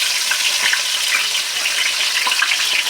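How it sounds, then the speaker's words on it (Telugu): Chopped onions dropped into well-heated oil fry with a loud, steady crackling sizzle that holds up close and constant, without any voices. "ఉల్లిగడ్డ వేసుకుందాం. ఆయిల్ బాగా వీటెక్కింది."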